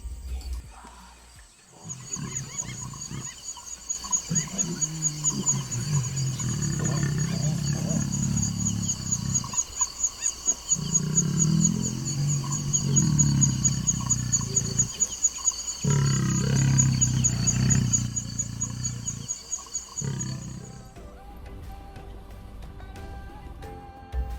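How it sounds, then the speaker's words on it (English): Lions roar and grunt in a low rumbling series, moderately near, on safari in Uganda, while a steady high insect drone carries on throughout. "We hear some lions"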